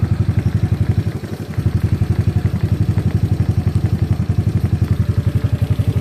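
A GY6 scooter engine runs with a steady, rapid firing pulse at fairly high revs, loud and close, holding a constant pace apart from a brief dip in the first second and a half, with no talk over it.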